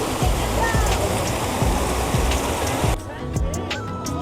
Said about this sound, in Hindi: ये गाइस यहाँ पे एक छोटा सा झरना भी है।